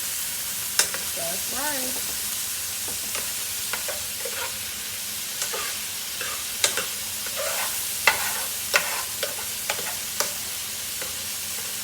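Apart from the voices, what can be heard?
food being stirred in a pan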